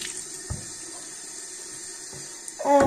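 Tap water runs steadily into a bathroom sink during rinsing, a continuous close hiss with a few faint knocks, ending with a louder splash.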